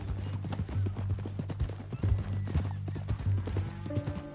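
Horse hooves clip-clop steadily on the ground in the Red Dead Redemption 2 video game, the close, rhythmic footfalls carrying on throughout with a brief tonal effect near the end.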